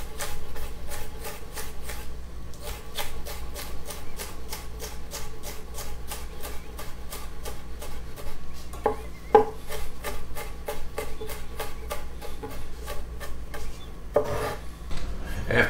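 A knife chopping hot pepper on a cutting board in rapid, evenly spaced taps, close and clear, with no talk.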